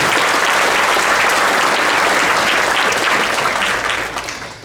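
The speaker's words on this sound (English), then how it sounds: "If you give her a round of applause, I'd appreciate" Audience applause at a county school board of education meeting, a dense steady wash of many hands clapping that holds loud for several seconds before starting to taper off at the end.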